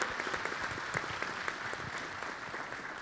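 A church congregation applauds at a cell-group gathering, with dense, even clapping from many hands that holds steady throughout at moderate distance.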